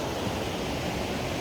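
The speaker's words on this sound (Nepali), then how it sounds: "हामी चाहिँ सौन्दर्य भ्यू हेर्दै यो नदीसम्म आइसकेका छौँ" A Nepali river rushes in a dense, steady roar of flowing water, close and continuous with no voices over it.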